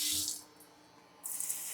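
Water flicked onto a hot, dry steak pan hisses and sizzles in two close, sharp bursts: one at the start and another after a short quiet pause.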